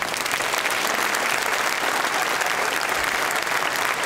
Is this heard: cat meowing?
no